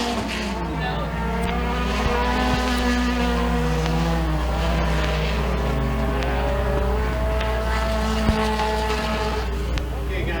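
Race cars at Thunder Mountain Speedway in a heat race drag-racing to the finish line, a sustained loud engine roar with shifting tones running under an announcer's commentary throughout.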